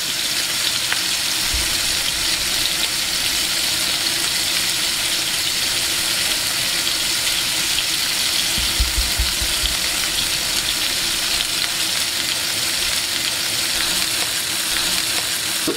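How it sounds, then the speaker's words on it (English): A steak sears in a pan, basted with garlic, butter and rosemary, giving a loud, constant close-up hiss of sizzling fat with occasional low thumps and scrapes from the spoon, no voices. "Then we'll start adding our aromatics, the garlic, the butter, and our rosemary, and start basting this bad boy with a steak."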